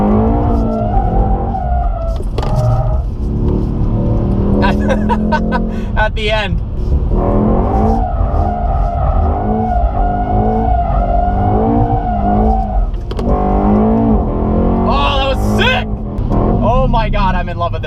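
A Mercedes E63S sliding sideways in second gear, tires squealing in long, wavering howls over a loud, revving engine, with the driver talking excitedly between bursts.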